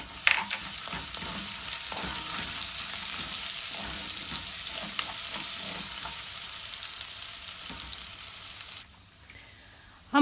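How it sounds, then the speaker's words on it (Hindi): Garlic, ginger and chillies frying in a pan, a continuous loud sizzle with occasional stirring scrapes, ending in a sudden drop near the close. "इसके बाद हम लहसुन, अदरक और मिर्चें तीनों चीज़ें डाल देंगे।"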